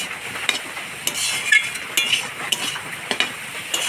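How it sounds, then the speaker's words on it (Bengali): Eggs and potatoes fry in a pan on a home stove, giving a steady hissing sizzle. Regular clinks and scrapes from a spatula stirring against the pan cut through it. "ডিম ভাঙিয়ে দিয়ে আলুর সাথে খুব সুন্দর করে ভাজা ভাজা করে নিচ্ছি"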